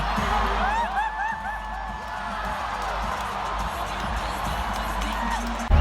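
Large arena crowd at a California basketball game roaring and cheering continuously, with whoops rising over a steady wash of noise and music, loud and sustained throughout.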